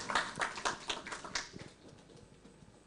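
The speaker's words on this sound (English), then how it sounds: "May we give a round of applause to President" A small audience at an indoor address gives scattered applause for a president, a few hands clapping briefly in a loose burst before it fades into room quiet.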